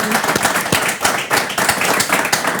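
An audience claps steadily, a dense burst of applause that fills the room.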